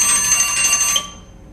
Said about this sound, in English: I set up the alarm to remind me to stop 10 minutes before the end.